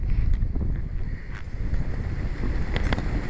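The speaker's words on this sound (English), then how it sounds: "When I say it's windy out here, this is what I'm talking about." Strong outdoor wind roars and buffets the microphone nonstop for the whole span, with loud low-frequency rumble and a few brief higher gusty rattles.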